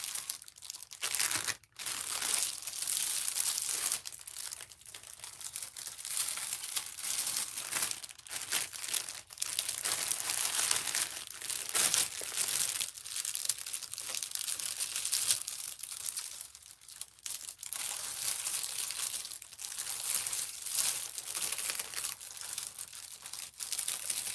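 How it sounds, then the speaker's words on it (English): Paper crinkles and rustles steadily in a craft room as junk journals are assembled from scraps. The crumpling is close and continuous, with brief pauses, and no one talks. "Sorry for all the crinkling."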